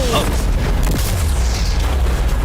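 A car blows up during a stunt challenge with a row of cars, a deep boom buried in loud, continuous roaring noise, with excited voices around it.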